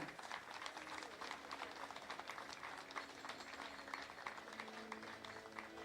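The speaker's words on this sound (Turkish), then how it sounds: "Şahika Ercümen'in ismi geçince alkışlar biraz arttı ya" Sustained audience applause at a Turkish open-water freediving championship medal ceremony, steady dense clapping throughout with faint voices mixed underneath.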